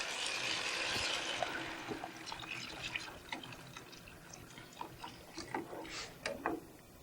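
Water pours steadily into a soup pot, a loud splashing fill at first that settles into softer trickles and drips, heard up close with no talking.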